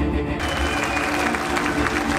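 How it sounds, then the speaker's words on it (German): Passengers on the cruise ship Mein Schiff 6 give a loud, dense round of applause welcoming the ship's head chef, a continuous wash of clapping with crowd noise and what sounds like background music underneath. "Begrüßen Sie mit einem donnernden Applaus den Küchenchef."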